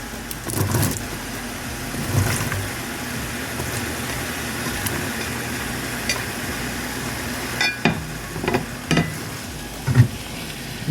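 Vegetables go into a hot pan of quail bhuna and cook, giving a steady low sizzle with occasional stirring scrapes and clinks near the end, no talking.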